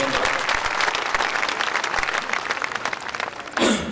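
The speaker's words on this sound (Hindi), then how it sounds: "आइए जोरदार तालियों से स्वागत करें।" Loud, dense applause from a large crowd at an awards ceremony, sustained steadily throughout without any break.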